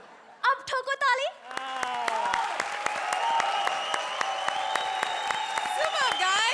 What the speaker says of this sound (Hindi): अब ठोको ताली